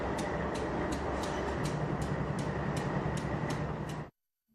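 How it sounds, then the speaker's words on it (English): A freight train rolls out of Glenwood Canyon with a steady low rumble and evenly spaced metallic clicks, then cuts off abruptly. "this was the first freight train to emerge from Glenwood Canyon"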